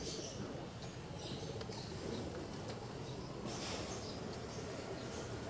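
Racing pigeons arrive at a loft during training, with soft cooing and scattered bird calls over a steady outdoor background hiss, fairly faint and continuous.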